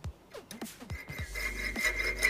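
Homemade jewellery saw cutting through a heavy metal bolt: a few scraping strokes at first, then a continuous grinding rasp with a thin, high metallic whine, fairly close.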